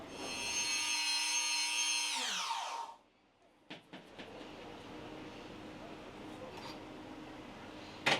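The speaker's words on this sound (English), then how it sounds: "Let me grind it a little bit more." Angle grinder fitted with a cast iron blade: a high, steady motor whine winds down, then rough, faint grinding noise with scattered knocks.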